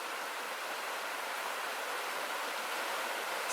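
Steady broadband rush of a brook flowing in an autumn woodland near a homestead campsite, continuous and even throughout with no talking.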